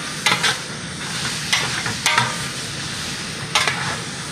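A roast browning in a pot, a steady close sizzle with a few sharp bursts of stirring or scraping against the bottom, loud and without talking.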